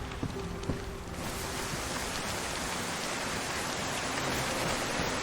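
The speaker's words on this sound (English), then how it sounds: "It's raining so much." Heavy rain pours in the video game DayZ, a dense, loud, unbroken hiss that thickens after the first second and holds steady with no talk over it.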